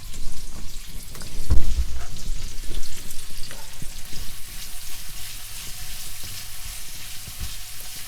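Onions fry in a pan for a paneer and pepper curry, making a dense, continuous crackling sizzle that stays close and steady, with a brief low thump early on.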